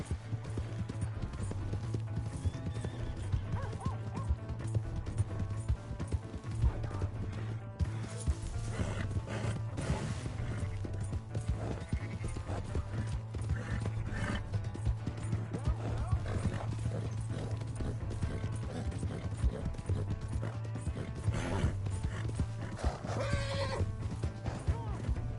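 A horse in Red Dead Redemption 2 on PS5 gallops with continuous clip-clopping hooves and lets out whinnies, while a low steady hum runs underneath and game voices talk at times.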